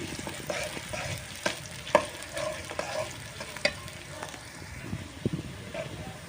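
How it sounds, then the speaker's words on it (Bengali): Chopped onions frying in soybean oil in a home kitchen, a steady close sizzle broken by scattered clicks and stirring scrapes, with a voice talking faintly at moments. "সয়াবিন তেল দিয়ে এর ভিতরে পেঁয়াজ কুচিগুলো দিয়ে একটু হালকা করে ভাজি করে নেব।"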